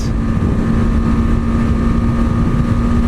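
A 2018 BMW G 310 GS motorcycle cruising at speed in sixth gear gives a steady, loud engine drone with a constant tone, mixed with heavy wind rush and no talking.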